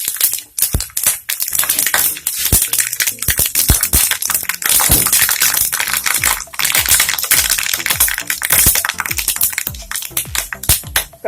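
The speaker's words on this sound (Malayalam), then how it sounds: "കടുക് പൊട്ടിയിട്ടുണ്ട്." Mustard seeds pop and crackle in hot coconut oil in a pan, a dense, loud, close run of sharp irregular snaps lasting throughout.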